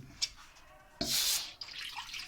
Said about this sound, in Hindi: 2 कप पानी डालना है इसके अंदर।